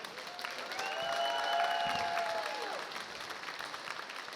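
Comedy club audience in Chicago applauding for comedian Vince, sustained dense clapping that swells in the middle and then eases, with a few whistles riding over the crowd.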